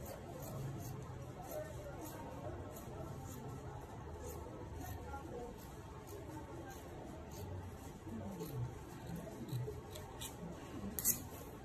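Scissors snip through fabric being cut out for palazzo trousers, a steady run of soft cuts under a low background murmur of room noise and distant voices.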